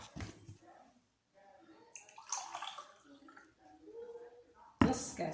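Water is poured to add half a glass in a home kitchen, a faint trickle and splash with a louder gush near the end, and a quiet voice talks in between.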